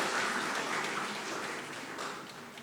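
Applause at an international conference, a steady wash of many hands clapping from an audience, fading slightly toward the end.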